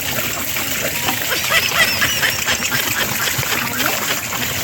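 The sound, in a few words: water splashing while bathing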